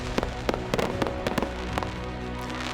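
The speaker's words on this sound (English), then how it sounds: "So tonight, as you hear the fireworks" Fireworks bursting at a church family fireworks celebration, a string of sharp cracks and booms in an irregular rapid rhythm over a steady crackling, rumbling background, fairly close and loud, with no talking.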